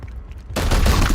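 A sudden loud volley of gunfire in a tabletop-style war video game erupts after a quiet moment, a dense crackling burst that stays heavy to the end.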